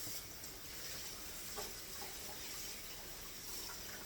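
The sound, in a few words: washing hands under a running tap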